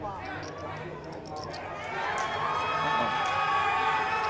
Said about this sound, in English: The crowd goes wild in the background